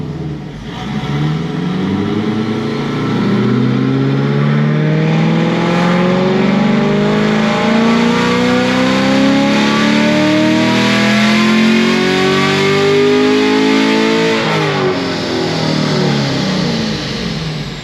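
A 2021 Chevrolet Camaro engine with upgraded heads, cam and intake revs up on a dyno in one long steady climb under load, loud and close, rising in pitch for over ten seconds before dropping off.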